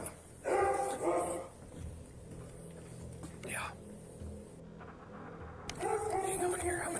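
Dogs bark and yip intermittently at moderate distance, muffled as if indoors, with a quiet voice murmuring in between.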